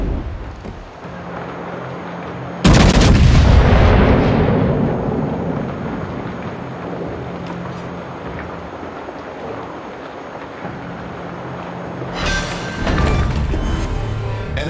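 Heavy naval guns on a warship fire at an enemy warship in a naval combat game, a sudden loud boom followed by a long rumbling decay, with a second blast near the end.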